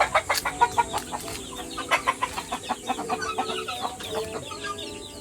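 Chickens and chicks cluck steadily inside a chicken house on a landscaped property, with a busy rhythm of short, close calls overlapping one another and the occasional louder squawk rising above the flock.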